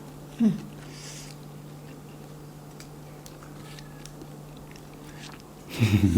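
Someone bites and chews spicy som tam (papaya salad) up close, with a crunchy burst near the start and a louder cluster of bites at the end over a steady low hum.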